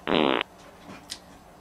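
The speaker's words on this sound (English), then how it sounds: "No, you farted." A loud, abrupt fart bursts out alone for under half a second, followed by faint room noise and a brief small sound, with no talking over it.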